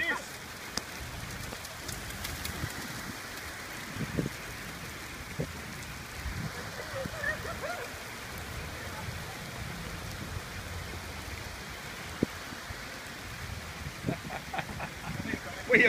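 Rain pattering on an asphalt test surface on a July day, a soft continuous hiss of falling drops with scattered louder taps and occasional faint voices in the background.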